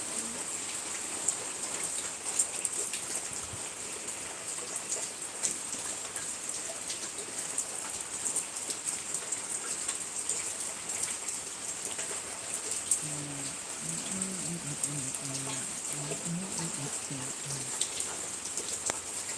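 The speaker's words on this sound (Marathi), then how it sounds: "बघा कसा पाऊस येत आहे असंच पाऊस यायला पाहिजे आपल्या छत्रपती संभाजीनगरमध्ये" Steady rain patters on surfaces in Chhatrapati Sambhajinagar, a soft, even hiss of drops with faint tapping throughout. A low voice murmurs briefly toward the end.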